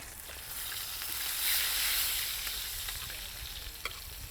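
Sussex lamb fries in a pan with rosemary and garlic, a steady bright sizzle that swells briefly and carries faint crackles and a small pop near the end, with no talking.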